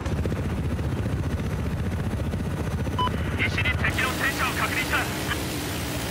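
A helicopter in the video game Battlefield 4 drones steadily with a constant rotor whir, joined partway through by bursts of rapid gunfire, while a player talks over it.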